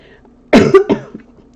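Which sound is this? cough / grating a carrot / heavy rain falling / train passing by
cough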